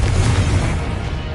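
A Confringo spell explosion from the Hogwarts Legacy video game lands as a single loud booming burst with a rumbling low tail that fades over about a second.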